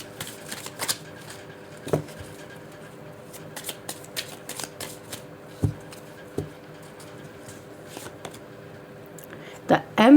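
Tarot cards shuffled by hand in a close, quiet room, soft riffling and flicking with occasional sharper card snaps, repeated throughout and heard alone.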